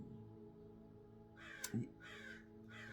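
Crow caws from outdoors, a few harsh repeated calls in the later half over a steady low background hum, moderately distant.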